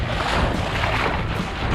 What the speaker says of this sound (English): Look at those big waves over here